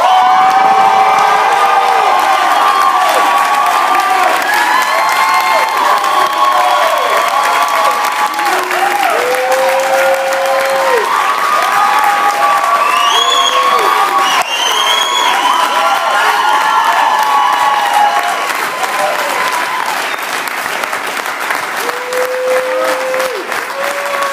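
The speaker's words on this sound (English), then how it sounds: "give him a fabulous applause for my hero, Mr. Chris Dale" A large audience at a business event in Sacramento, California, claps loudly and cheers, with sustained applause, whoops and shouts carrying on throughout.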